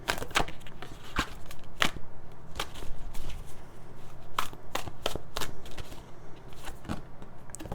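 An angel oracle card deck is shuffled up close, giving a steady run of papery riffles and sharp card snaps.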